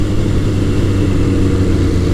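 A Kawasaki KZ1000 CSR motorcycle engine running through a Delkevic exhaust, a steady, loud, close low rumble that holds without pause and with no talk.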